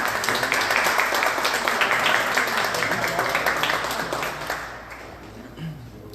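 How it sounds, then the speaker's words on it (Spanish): A symposium audience applauds in sustained, dense clapping that fades away after a few seconds. "Un aplauso, por favor."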